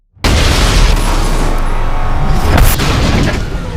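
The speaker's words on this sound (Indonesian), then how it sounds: "Dan saat akan memberitahu Silva, tiba-tiba terjadi ledakan pada mobil tersebut." A car explodes in an action film with a sudden, very loud blast that rolls into a dense, sustained roar of rumble and debris lasting several seconds.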